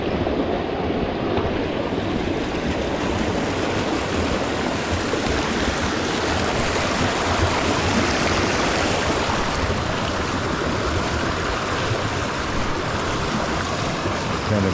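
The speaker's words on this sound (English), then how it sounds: "And water coming down through it." Steady, full rush of water pouring and splashing continuously, close by, a small creek cascade falling into a rock pool, with no voices.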